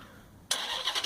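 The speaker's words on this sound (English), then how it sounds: "You can hear that exhaust, it just sounds so good on startup." A 2012 Dodge Charger R/T fires up by remote start, its exhaust catching abruptly after a quiet moment and settling into a loud, close rumble that pulses slightly as it idles.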